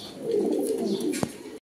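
A restless Pakistani Rampuri pigeon coos in a low, rolling murmur for about a second and a half, close and fairly loud, with a brief sharp knock near the end before it stops.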